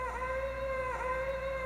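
A faint, sustained synth-like lead tone built from the reverb tail of a cat's meow, with the meow itself removed, hums steadily and gently wavers in pitch, in a Ta-Ku style production.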